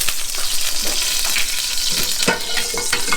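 Two tablespoons of vegetable or canola oil hitting a hot pan, a loud, steady crackling sizzle with small pops throughout, no voices.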